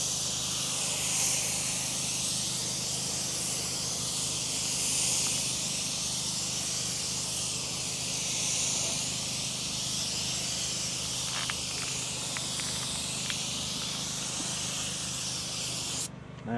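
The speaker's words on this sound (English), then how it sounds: "I've got a rubber and vinyl dressing that I just sprayed on with an HVLP" An HVLP sprayer applies rubber and vinyl dressing to a car tire during a mobile detailing job, giving a steady, close, continuous hiss that runs unbroken and cuts off abruptly at the end.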